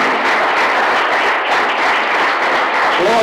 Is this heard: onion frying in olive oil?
no